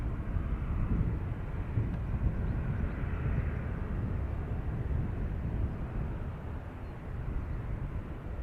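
An ATR turboprop from the Isle of Man roars steadily at Dublin Airport, a low broadband rumble with some wind buffeting and no clear rise or fade.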